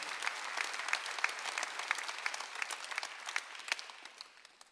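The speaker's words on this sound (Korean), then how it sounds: "박수하세요." A church congregation at a Korean Sunday worship service claps together, with distinct sharp hand claps standing out over a steady wash of applause that tapers off near the end.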